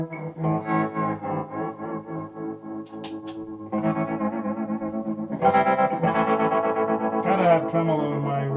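A BBE opto tremolo pedal pulses an electric guitar into a wavering, spaghetti-western sound, with sustained chords throbbing steadily and loudly for several seconds, alone without talk.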